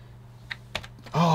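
Keys clacking on a replacement keyboard fitted to a Sinclair QL computer, a few sparse close taps followed by a brief louder tone at the end.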